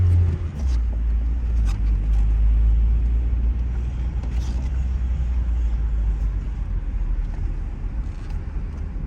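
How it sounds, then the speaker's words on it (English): A 1997 VW Golf Trek edition with manual transmission pulls away and drives on, its steady low engine rumble and road noise filling the interior, with occasional light clicks and no talking. "Manual transmission, put her in first gear here. We'll take off."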